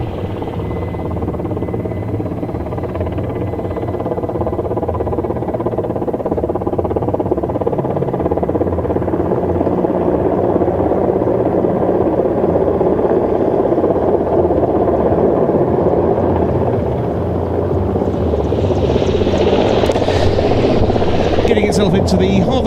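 A military helicopter settles into a hover at a Czech air force base during an air show, its rotor and turbine roar loud and steady throughout, swelling slightly near the end, with a commentator talking over it.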